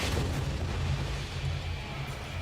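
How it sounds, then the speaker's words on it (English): Explosion effects at the Microsoft E3 2019 stage show come through as a fairly faint, sustained low rumble and booming roar, heard from a distance. "The stage is exploding."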